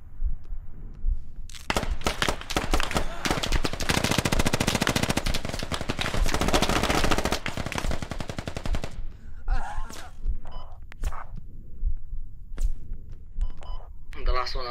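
Automatic gunfire in the video game Squad rattles in a long, loud, near burst for several seconds, followed by scattered single shots and brief bursts, with a voice talking amid the shooting.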